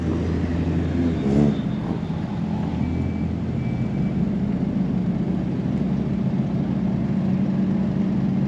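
Car rolling out of a car show in Japan, a steady engine and road rumble continuing throughout at moderate distance, with a low constant drone and no clear speech.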